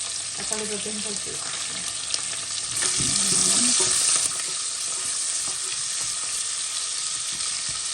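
Onions and green chillies sizzle and crackle steadily in hot oil, with occasional stirring scrapes and a brief louder burst of frying in the middle.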